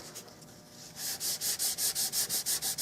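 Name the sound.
sanding super glue filler on Winchester Model 100 rifle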